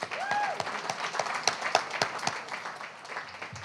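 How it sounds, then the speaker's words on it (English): An audience at a poetry reading applauds, a sparse patter of claps swelling into a steady spread of clapping, with a few faint whistles or cheers mixed in. "So a round of applause for construction projects that end."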